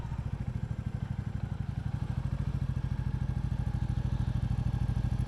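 A Royal Enfield Classic 350 motorcycle thumps along while being ridden, its single-cylinder engine giving a steady, rapid, even low pulse, close and fairly loud, with no speech.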